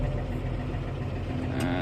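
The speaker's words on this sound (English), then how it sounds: "we're in the big tractor. Just started it up" A big farm tractor's engine idles steadily just after being started, a low, even rumble close by with no revving, settling in to warm up on a cold day.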